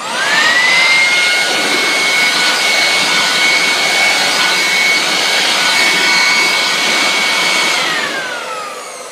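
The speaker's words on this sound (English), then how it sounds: "a blower which blows at 120 miles per hour and 150 miles per hour" A high-speed blower runs steadily at about 120 miles per hour, a loud continuous jet-like roar with a high whine that holds for several seconds before winding down at the end.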